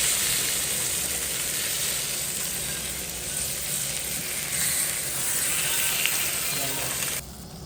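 Fish frying slowly in oil, with the fish head added last, a close, steady sizzling hiss that holds evenly before cutting down near the end, no speech.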